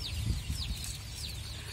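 Free-range country chickens cluck softly on a farm, a few short calls repeating over quiet background hum with no talking.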